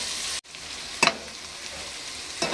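Vegetables for Schezwan chicken rice tossed and stir-fried fast in a hot pan, a steady sizzle broken by a brief gap and two sharp tossing clatters, with no talk.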